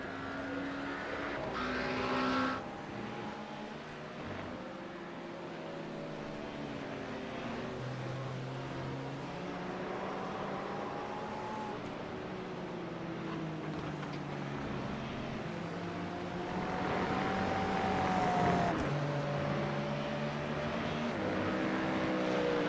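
GT3 race cars at the Red Bull Ring circuit, several engines overlapping with rising and falling pitch sweeps as cars pass, steady loud racing noise throughout without talk.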